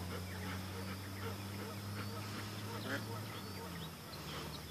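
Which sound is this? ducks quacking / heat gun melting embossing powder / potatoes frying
ducks quacking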